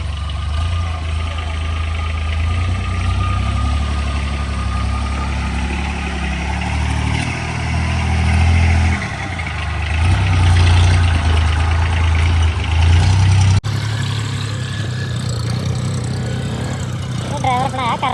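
A homemade tractor with a 26 hp engine idles close by, giving a steady, loud low rumble that holds throughout with slight surges, while voices murmur faintly in the background.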